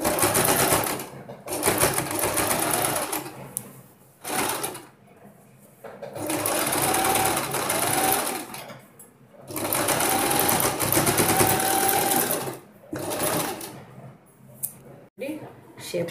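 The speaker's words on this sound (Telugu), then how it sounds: "ఈ విధంగా కుట్టు వేసేద్దామండి." A sewing machine stitching a blouse hem runs in loud rapid bursts of several seconds each, separated by brief pauses, close up.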